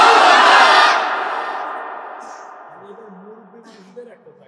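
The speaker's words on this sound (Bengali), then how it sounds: "এবার আমরা সকলেই একসাথে তাকবীর দিয়ে বুঝিয়ে দিব যে মুসলমানদের জোর এখনো আছে" A large crowd at an outdoor Islamic sermon gathering in Pabna roars takbir in unison, a loud, massed shout that peaks at once and then fades into a long echoing tail.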